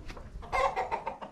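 Chickens kept on a property for sale in Arayat cluck close by in a short run of several quick, uneven clucks over faint background noise.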